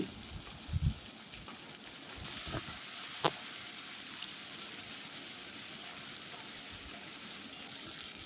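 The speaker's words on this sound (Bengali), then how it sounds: "দিয়ে দেবো ফোড়নে কালো জিরে আর নিয়েছি দুটো বড় সাইজের পেঁয়াজ কুচি" Chopped onions and black cumin sizzle steadily in a generous amount of hot oil, a close, continuous frying hiss with occasional stirring clicks and a couple of sharp pops.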